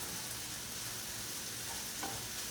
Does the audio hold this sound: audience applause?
no